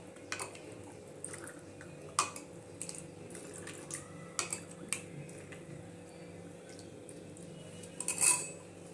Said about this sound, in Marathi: आता ह्याच्यात हे कलिंगडाचे तुकडे टाकूया आणि यानंतर हे तयार केलेले ड्रिंक टाकूया